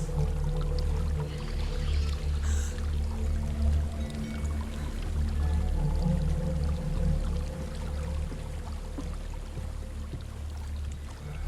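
A waterfall pours steadily in Hellblade: Senua's Sacrifice, a continuous splashing rush layered over a low droning game ambience, with no one speaking.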